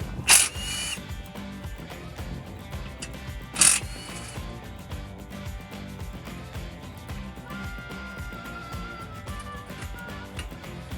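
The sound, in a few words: power tool removing two 16mm bolts from Jeep guard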